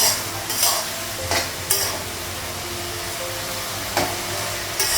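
Food frying in a kadai on a gas stove in a Bengali home kitchen: a steady, close sizzle and hiss, with intermittent scraping and clinking strokes of stirring against the pan.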